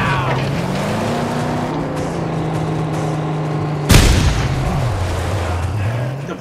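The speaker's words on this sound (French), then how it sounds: "il faut vraiment que j'apprenne à viser avec ce pompe là" Shotgun blast in the post-apocalyptic car-combat game Mad Max: a single sharp, loud report about two-thirds through, set over a continuous droning vehicle engine whose pitch shifts up and down.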